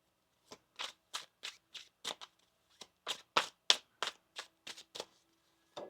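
Tarot cards being shuffled by hand, a run of about fifteen crisp riffling bursts in an uneven rhythm, close and clear with short pauses between them and no talking.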